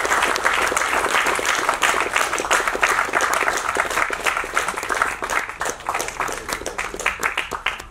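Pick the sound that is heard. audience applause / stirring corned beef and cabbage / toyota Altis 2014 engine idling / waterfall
audience applause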